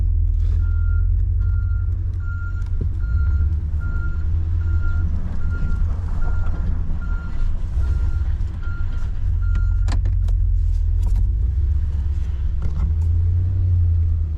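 A 2023 Ford F600 snow plow truck reverses with regular, evenly spaced backup beeps over a loud, low engine rumble, with occasional clunks in the cold.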